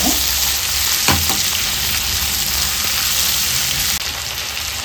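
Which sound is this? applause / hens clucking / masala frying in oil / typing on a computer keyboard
masala frying in oil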